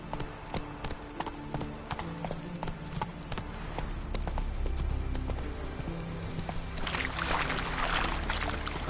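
Roach, the horse in The Witcher 3, clip-clops along with a steady run of hoofbeats over ambient background noise. The outdoor noise gets louder toward the end.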